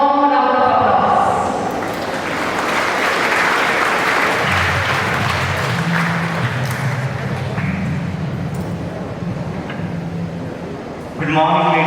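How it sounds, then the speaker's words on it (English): Audience applause at a school investiture ceremony: a hall full of people claps steadily for several seconds, with a voice over a sound system heard before and after the clapping. "May I request everyone to greet him with a warm round of applause."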